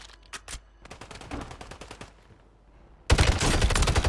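Gunfire in the Warzone video game: a few scattered single shots, then a dense, loud burst of automatic fire with rattling reports that continues steadily to the end.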